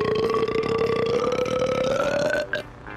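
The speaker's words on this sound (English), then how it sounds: "Burping contest?" A long, loud, drawn-out burp in a burping contest rumbles steadily for over two seconds before breaking off. Nobody speaks over it.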